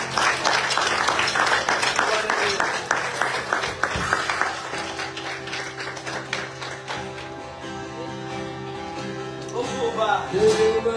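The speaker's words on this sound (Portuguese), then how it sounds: "Vamos aplaudir Jesus." A church congregation applauds at a Sunday celebration service, dense rapid clapping that fills the room at first, then thins and fades as sustained music tones rise beneath it.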